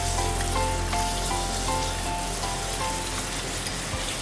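Sliced onions frying in hot oil for chicken vindaloo, a loud, dense, continuous sizzle close up with a faint steady tone running underneath.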